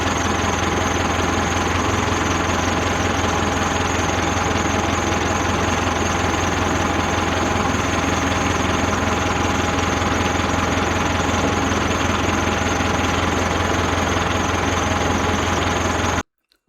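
Steady tractor engine running continuously at a constant idle, a loud close mechanical drone with a knocking vibration that holds unchanged throughout, then cuts off abruptly at the end, no voices.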